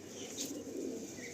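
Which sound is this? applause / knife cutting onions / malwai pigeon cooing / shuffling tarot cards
malwai pigeon cooing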